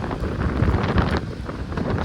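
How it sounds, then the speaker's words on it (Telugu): Strong, steady wind roars and buffets close against the microphone as a bike is ridden slowly. The rumble stays loud and constant throughout, with no voices. "చాలా గట్టిగా ఉంది గాలి"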